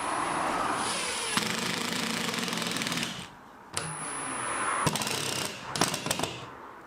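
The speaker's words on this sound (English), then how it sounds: "crank it up all of the way and add the screws" A power driver sinks 38mm drywall screws through insulated board into a workshop ceiling, whirring in several bursts of a few seconds each with short pauses and sharp knocks between, close and moderately loud.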